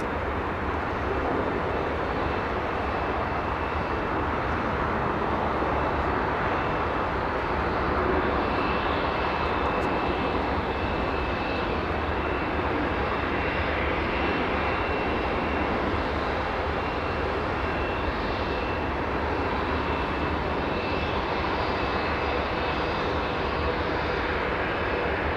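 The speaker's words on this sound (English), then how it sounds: "We do have an arrival. It's SkyWest 5277 flying in from Redmond in Oregon" A SkyWest airliner arriving at Los Angeles airport from Redmond, Oregon produces a long, even engine roar with a faint high whine, sustained at moderate loudness throughout.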